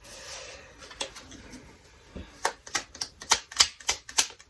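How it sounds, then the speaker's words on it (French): Tarot cards being handled and drawn from a deck, giving a run of close, sharp papery snaps and flicks that quicken toward the end, with no talking. "Je vais aller tirer une autre carte"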